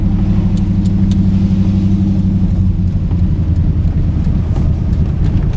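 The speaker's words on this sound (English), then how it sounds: "the car's running my own homemade side exit exhaust, and I wanted you to hear it because it's just such a joy" A 1984 TVR Wild Wedge with a 4.0 V8 and a homemade side exit exhaust rumbles loudly and up close, a deep throbbing burble that rises slightly in revs and holds steady, alone without talk.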